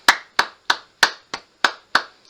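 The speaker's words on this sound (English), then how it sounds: "If I was to start clapping" Seven sharp hand claps in a steady, evenly spaced rhythm, close and loud, each ringing briefly before the next, with no talking.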